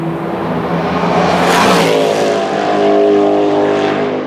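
A Glickenhaus hypercar races past at Spa-Francorchamps during a 6 Hours endurance race, its engine note rising loud and close as it passes, then falling away with a Doppler drop.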